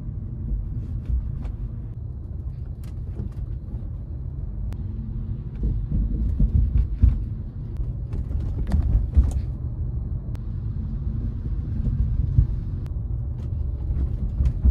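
Cabin interior of a BMW G20 320i or Mercedes W206 C200 crossing large speed bumps on a flat road: a steady low road rumble with a few dull thumps and knocks from the suspension, heard from inside without talking.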